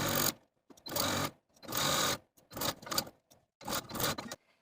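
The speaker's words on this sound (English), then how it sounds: "sew close to that inner fold all the way around to hem your sleeve" Sewing machine stitching a hem close to the inner fold of a jumpsuit sleeve, running in several short bursts with brief pauses between, close and clear with no voices.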